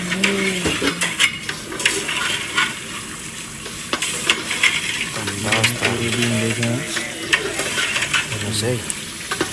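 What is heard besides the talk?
meat frying with spices for biryani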